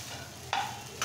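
A spoon stirs and mixes prawn and poppy seed food in a pan with a soft sizzle beneath, two short scraping strokes standing out clearly.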